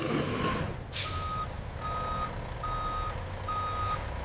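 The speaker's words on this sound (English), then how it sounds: "The truck arrives in the exact loading position." A heavy truck backs into its loading position at a factory dispatch area, with a hiss of air brakes, then a steady series of four or five evenly spaced reversing beeps over a low engine rumble.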